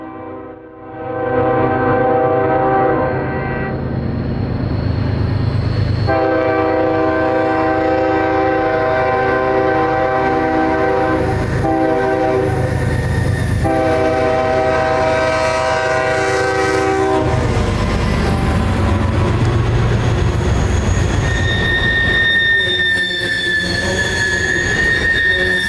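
Northbound freight train M544, led by three GE Gevo locomotives, rumbles past with a long, loud horn blasting in several sustained sections, then shrill wheel squeal and rail clatter as the cars roll by, close and continuous.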